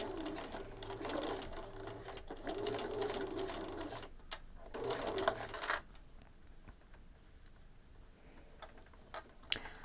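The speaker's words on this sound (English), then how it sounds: "I just went over a bit of the seam that was at the right width and then tried again to follow the 1 centimetre seam allowance mark" A sewing machine stitches a seam along the 1 centimetre allowance on a rain cape, running in steady bursts for about six seconds, pausing, then ending in quieter scattered ticks and clicks.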